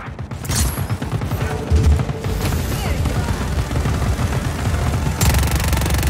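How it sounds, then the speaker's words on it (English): Missile launches and explosions in Just Cause 4 at Desierto Launch: dense, continuous rumbling booms and rapid bursts of blasts, loud and sustained throughout, with heavy low-end thumps and a sharp crack near the end. "Firing the missiles now."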